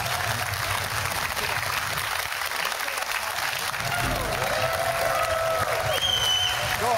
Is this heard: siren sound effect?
no